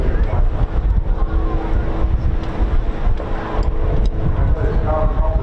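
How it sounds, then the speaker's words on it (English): Strong wind buffets the microphone at a seaside air festival, a continuous loud rumbling roar with gusty low-frequency blasts that never lets up, with no voices heard. "Really strong wind coming up here."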